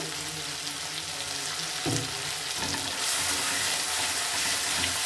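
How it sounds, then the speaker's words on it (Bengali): Spice masala fried in oil for a coriander rohu curry, a steady loud sizzle with a few stirring scrapes; the frying grows brighter and more intense partway through, with no voices. "মশলাটা খুব ভালো করে কষিয়ে নেবে।"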